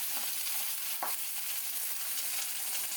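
A Vietnamese banh xeo crepe with bean sprouts sizzles loudly and evenly in a frying pan, with a dense, constant hiss. A brief scrape or thump comes near the middle as it is flipped.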